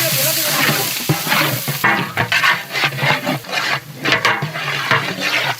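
Steady crackling sizzle of sliced onions frying in cold-pressed coconut oil with cinnamon for chicken biryani, with occasional stirring scrapes, close and continuous throughout.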